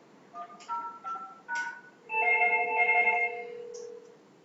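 An incoming call rings on an Htek IP phone running on a 3CX phone system: a short electronic melody of stepped tones plays, then a longer sustained tone follows. The ringing is clear, moderately loud, with no talking.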